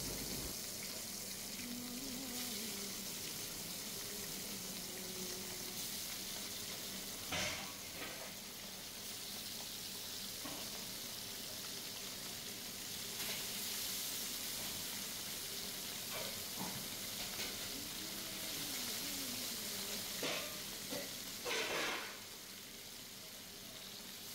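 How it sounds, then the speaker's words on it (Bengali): King fish pieces frying in hot oil in a pan, a continuous close, even sizzle with occasional louder spits and crackles and faint clinks of handling. "একটি প্যানে আমি তেল নিয়ে নিয়েছি, তেলটা গরম হলে মাছগুলো"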